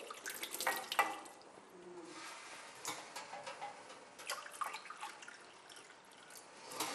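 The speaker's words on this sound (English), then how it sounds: "pour the hot water. This is really hot boiling water" Very hot boiling water pours from a kettle into a baking dish for a coconut custard, a steady splashing trickle close by with a few small bumps and clinks, no talking.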